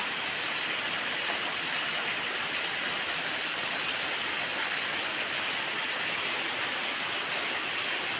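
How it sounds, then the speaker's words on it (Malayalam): Heavy rain pours steadily, a dense and constant hiss of falling water with no breaks, close and loud throughout. "വെളിയിലാണ് നല്ല അടിപൊളി മഴ പെയ്യുക"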